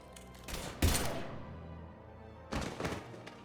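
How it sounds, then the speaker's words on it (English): Gunfire in the video game Mass Effect 3: two separate bursts of loud, booming shots, a heavy blast near the start with a long rumbling decay and a second shorter burst near the end, with no talk. "Now open fire!"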